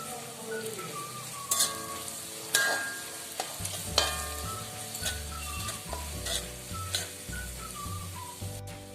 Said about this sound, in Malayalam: ആ ടൈമിൽ നമ്മുടെ ഈന്തപ്പഴം ഇട്ട് കൊടുക്കാം. നല്ലോണം ഒന്ന് മിക്സ് ആക്കാം.